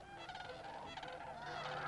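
Cranes and geese calling at their night roost in a marsh, a thick continuous din of overlapping honks and trumpeting calls, some near and some distant, with no talking.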